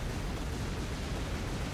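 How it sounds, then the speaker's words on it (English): An overblown explosion at the end of the Shantae: Half-Genie Hero game demo gives a loud, continuous broadband roar that holds steady for nearly two seconds with no break. "overdone explosion at the end from Half Genie Hero"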